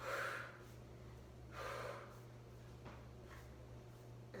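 Breaths drawn and pushed out during a Pilates mat workout: two stronger exhales, each around a second long, then quieter breaths over a steady low hum, with no talking.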